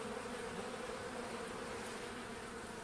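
A dense, continuous drone of many Caucasian honeybees buzzing together inside a hive after winter, steady and close, with no voices.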